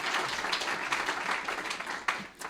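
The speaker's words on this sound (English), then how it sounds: "So please give it a round of applause for James Averdieck" Brief burst of audience applause at an evening entrepreneur talk at a club venue, steady dense clapping from a crowd, moderately loud, with no speech over it.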